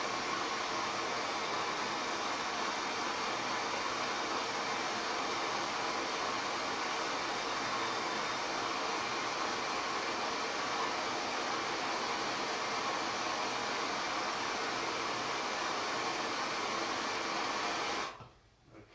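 Steady broadband heat gun blowing continuously at close range on a Loctited screw while a gearbox assembly and motor are being replaced, running alone for about eighteen seconds before cutting off abruptly.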